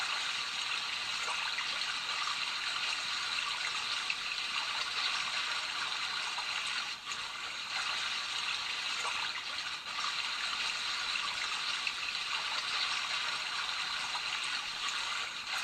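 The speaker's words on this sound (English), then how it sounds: "let's do the little brook, or whatever you want to call it, little stream" A sleep therapy sound machine plays a babbling brook loop, a steady, even wash of trickling stream water that continues unbroken for the whole stretch with no voices.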